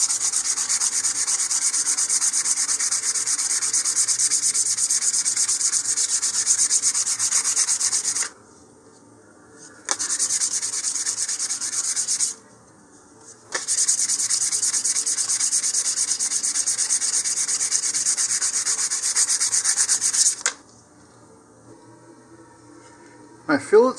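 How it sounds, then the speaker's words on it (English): A model rocket nose cone for an Estes Goblin gets a light sanding: three long runs of steady, scratchy rubbing, close and even, separated by short quiet pauses. "finish doing the rest of the nose cone, give it a light sanding"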